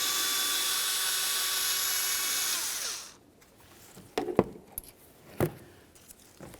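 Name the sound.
removing ignition coil mounting bolt on 2007-2017 Ford Expedition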